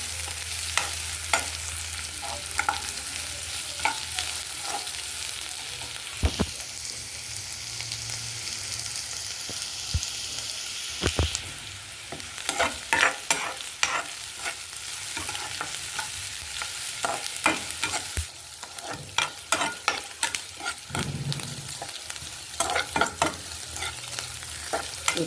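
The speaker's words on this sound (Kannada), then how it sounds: "ಸ್ವಲ್ಪ ಫ್ರೈ ಮಾಡ್ಕೊಳ್ಳೋಣ." Potatoes and spices for potato sagu fry and sizzle steadily in a pan, with a spoon scraping and clattering at intervals, close and alone with no talking.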